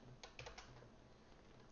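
A handful of quick keystrokes on a computer keyboard while code is written, faint and close, tapering off into quiet.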